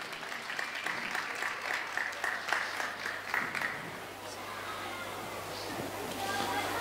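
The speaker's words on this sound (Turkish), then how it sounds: "alkışlarla sahneye davet ediyorum" Applause from the audience at a book-days talk fills the hall as a deputy mayor is invited onto the stage, a steady patter of clapping that is moderately loud, then fades to a low murmur near the end.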